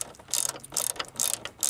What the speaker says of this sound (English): Just gotta get the right angle to get the ratchet on there.